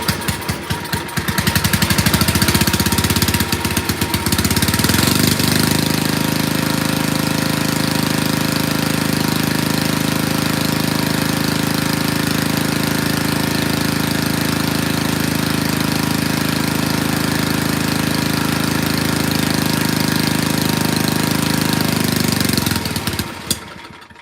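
An old motor on an abandoned farm-built machine runs loud and steady for about twenty seconds, a rough, thrumming drone that cuts off near the end, with no talking over it.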